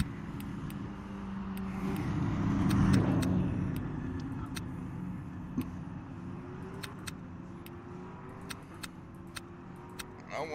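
A Porsche in a racing video game drives with a steady engine drone that swells and fades, with light clicks and taps over it.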